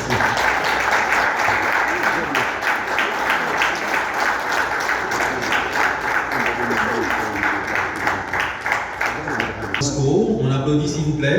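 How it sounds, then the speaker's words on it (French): A crowd at an electricity workers' union event in Haiti claps loudly and continuously, with a burst of rhythmic unison clapping mid-way before the applause thins out near the end. "On applaudit s'il vous plaît."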